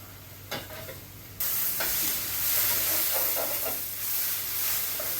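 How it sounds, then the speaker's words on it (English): Onions sautéing in a pan, a soft steady sizzle that jumps louder partway through and stays hissing, with a few light stirring scrapes and no talk. "I'm going to continue sauteing these onions"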